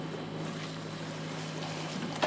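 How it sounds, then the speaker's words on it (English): Ocean waves rocking a sailboat at sea, a steady rushing wash of water and wind against the hull with a low hum, continuous and moderately loud, ending in a brief thump. "I'm trying to video you to get an idea of the waves"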